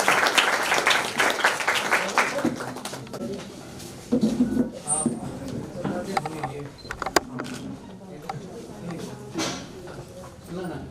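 An audience at a retirement function gives a round of clapping, with scattered claps running under voices that keep talking throughout.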